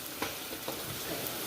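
Spices frying in a pan for paneer butter masala, a steady soft sizzle with faint stirring scrapes, close and continuous with no voices.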